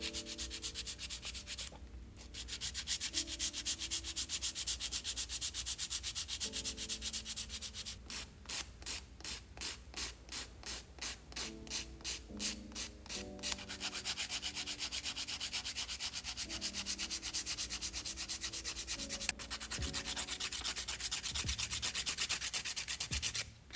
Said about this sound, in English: go ahead and file the surface of the nail as well